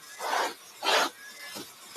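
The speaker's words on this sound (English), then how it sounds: "the burnishing brush is great for picking up and cleaning off the liquor end" Burnishing brush scraped across the licker-in of a drum carder to clear off wool, giving two quick raspy strokes and a fainter third, close and quiet.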